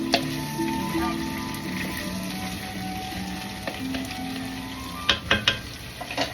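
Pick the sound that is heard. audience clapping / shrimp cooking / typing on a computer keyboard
shrimp cooking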